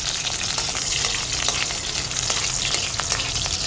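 Garlic fries in canola oil in a pan, giving a loud, dense, continuous sizzle with faint crackles and stirring, close up, with no talk.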